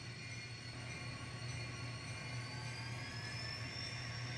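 A faint, steady mechanical hum with a whining motor tone runs continuously from an N scale model train moving along its track.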